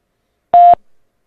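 A single DTMF keypad tone from a telephone being dialed, one clear steady beep lasting about a fifth of a second, loud and close, followed by a faint short tail and silence.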